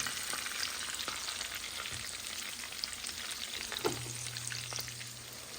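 Portuguese sardines fry with onions in a pan, giving a steady, close sizzle with occasional soft stirring clicks and a low hum near the end.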